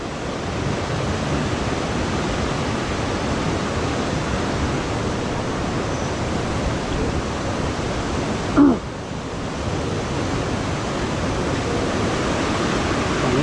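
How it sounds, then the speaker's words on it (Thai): Datanla waterfall in Dalat, Vietnam, rushing as a steady broadband roar throughout, with a brief sharp bump partway through and no voices. "น้ำตกดาตาลานะครับ"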